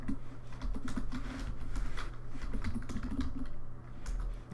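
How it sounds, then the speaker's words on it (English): Steady typing on a computer keyboard, a dense patter of key clicks up close over a low background hum. "what's wrong with my typing?"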